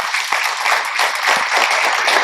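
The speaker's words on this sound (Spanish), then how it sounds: "Un fuerte aplauso para la mamá de Rosalind" Sustained audience applause in a church gathering, a dense steady wash of many hands clapping at close range, without talk.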